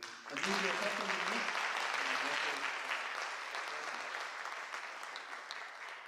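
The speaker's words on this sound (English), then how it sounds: "So let's all give a round of applause for Anne" An audience at a senior recital gives a round of applause, dense steady clapping that swells quickly and then slowly thins over several seconds, fairly distant in the hall.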